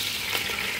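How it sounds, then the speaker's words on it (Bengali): Cloves, cardamom and white peppercorns fry in hot oil for a biryani, giving a steady close hiss of sizzling with no pause and no voices. "এটাকে আমি কয়েক সেকেন্ড ভেজে নেব"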